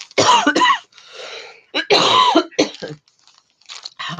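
Several harsh, wet coughs close by, coming in bursts with short pauses between them, plus some throat clearing.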